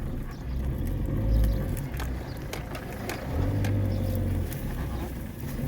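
A revived Peugeot 207 1.6 HDI diesel car creeps a few metres with a low, rough engine rumble that swells and eases. It is close and continuous, with faint clicks and knocks on top.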